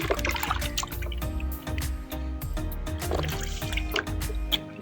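Feet being washed in a basin of water during a pedicure, with close splashing, dripping and trickling in irregular bursts throughout.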